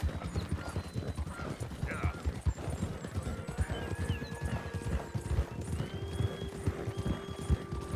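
Horse hooves pounding in a fast galloping rhythm during a video game racing time trial, with occasional whinnies and a voice talking over the steady clip-clop.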